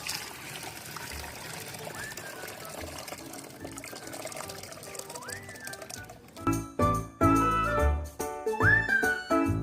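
Salty water is strained out of soaked coconut coir cocopeat in a tub, a steady trickle and splashing pour that grows louder and more broken in the second half.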